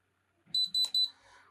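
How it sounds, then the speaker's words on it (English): Three short, high electronic beeps from a Novritsch ClipCam camera powering on sound in quick even succession, clear and close, followed by a soft faint chirp. "it beeps and turns on"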